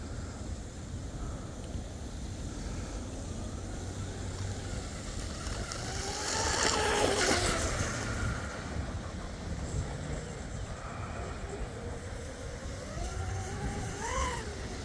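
A 21-inch RC twin-hull catamaran with 2948 brushless motors and a Flycolor 90A controller runs on a pond with a fountain: a continuous electric motor whine with rising pitch sweeps swells louder midway, then settles, heard at a distance over steady outdoor noise.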